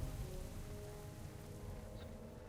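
Steady rainfall in the snowy Winterspring zone of World of Warcraft, a constant broadband hiss of drops that holds evenly throughout, moderately loud, with no voices.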